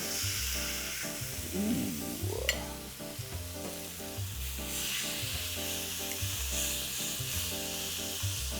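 A ribeye steak sears in bacon fat in a roughly 110-year-old cast iron pan, with a steady, close sizzle and crackle throughout, a brief burst of spitting early on, and an exclamation from a voice.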